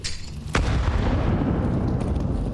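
A grenade goes off in a Counter-Strike match, one sharp loud blast followed by a low rumbling tail, with no voices over it.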